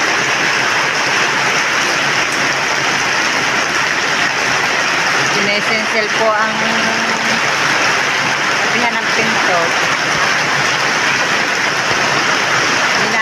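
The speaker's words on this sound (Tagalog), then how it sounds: "Lakas ng ulan." Heavy rain pours in a steady, loud wash at a door, continuous throughout, with people talking over it.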